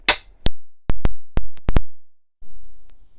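Sharp metallic taps of a hammer on a punch setting rivets in a Kenwood KM200 food mixer, about seven in irregular succession, each ringing briefly before the next, followed by a faint low rumble.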